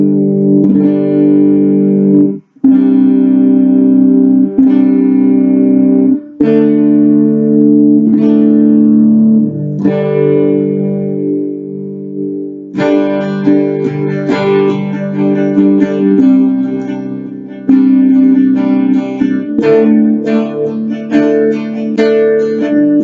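A clean electric guitar on its neck pickup plays sustained chords and picked notes with a warm, rounded tone, loud and close, shifting chords every few seconds.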